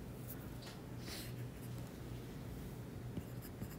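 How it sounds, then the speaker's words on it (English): Pen or marker writing on a board or paper during a calculus lesson, a faint continuous scratching with a low steady hum behind it and no talk. "Maybe let me write here."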